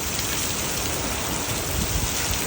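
Heavy rain pours in a dense, unbroken roar, driven by strong wind, loud and close with no pauses or voices.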